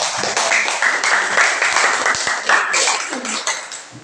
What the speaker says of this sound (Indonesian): Beri tepuk tangan buat Teh Rizka.